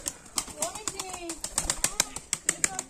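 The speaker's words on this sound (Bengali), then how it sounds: "এটা বাচ্চা পায়রা, বেশি বয়স না" A young tumbler pigeon flaps its wings in rapid bursts of soft slaps and clicks, close by, while a person talks over the fluttering.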